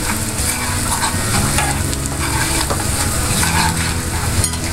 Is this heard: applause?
no